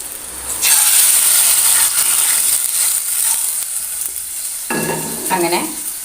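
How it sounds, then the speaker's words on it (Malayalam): Small onions frying in coconut oil in a pan sizzle loudly and close, a steady crackle that swells after a brief quiet start, with scraping stirs toward the end. "പാനിലേക്ക് വെളിച്ചെണ്ണ ഒഴിച്ചിട്ടുണ്ട്. ചെറിയ ഉള്ളി ഇട്ട് കൊടുക്കുന്നുണ്ട്."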